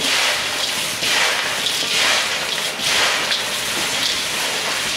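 Puffed rice and corn chivda being tossed and mixed by hand, a steady dry rustling and crackling that swells and eases in waves, close and fairly loud.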